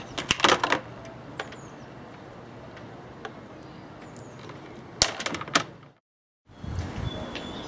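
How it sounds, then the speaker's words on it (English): Wire cutters snip solar panel leads to length for an RV solar generator kit, giving a couple of sharp clustered clicks near the start and again around five seconds, with quiet room tone between and a brief silent gap. "I'll cut the wires to the right length"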